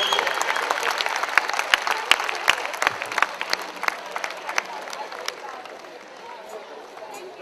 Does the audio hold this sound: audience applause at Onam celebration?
yes